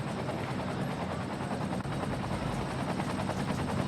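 Emergency helicopters in the city-building video game Cities: Skylines give a steady, fast rotor chop that stays even and moderately loud throughout, with no talking.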